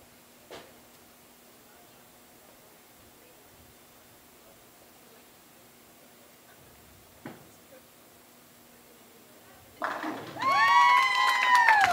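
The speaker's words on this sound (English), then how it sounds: "Finishes it with a strike. You hear the crowd." A crowd at a professional women's bowling stepladder final breaks into cheering and shouting after a closing strike, the roar rising suddenly near the end after quiet moments with faint knocks.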